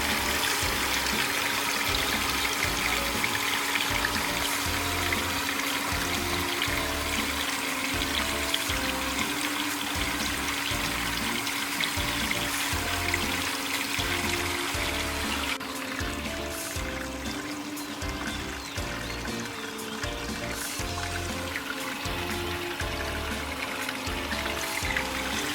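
Water pours steadily out of a water filter during an air scouring service, a continuous rushing flow with a pulsing pump-like rhythm underneath, loud and unbroken throughout.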